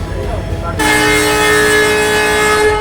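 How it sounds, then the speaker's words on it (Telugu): A passenger train from Hyderabad to Basar rumbles along with a steady roar and a sustained horn-like tone, loud and close, rising sharply after a quieter start. "ఇంకా రైలు పోతుంది."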